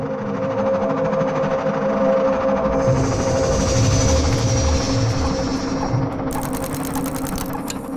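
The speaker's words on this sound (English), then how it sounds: "We are entering the Gare d'Austerlitz." Train pulling into Gare d'Austerlitz station in Paris, a steady loud rumble with a sustained high whine and clatter throughout, a sharp hiss rising near the end.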